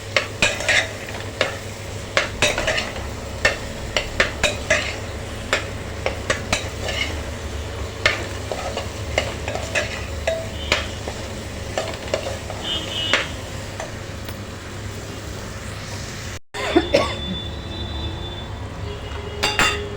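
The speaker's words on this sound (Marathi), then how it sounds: "मसाला ब चवळी बटायला छान लागणार एक दोन मिनटं छान परतून घेणार आहोत" Black-eyed peas and potatoes coated in masala sauté in a pan, with repeated scraping and stirring clicks of a spoon against metal over a low sizzle, then a brief pause and clatter near the end.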